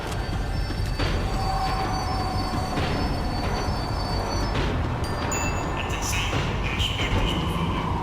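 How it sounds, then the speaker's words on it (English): A tram in Max Payne 3 rumbles steadily as it slows down, with wheels squealing and metallic screeches rising above a dense, continuous rail roar heard throughout. "The tram was slowing down, and I'd only just gotten on board."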